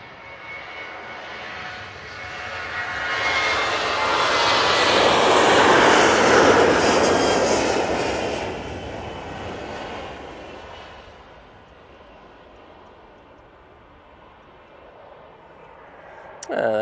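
A TUI Boeing 737-800 jet airliner at Manchester Airport roars past, a broad engine rumble swelling to a loud peak midway and then fading to a distant hum.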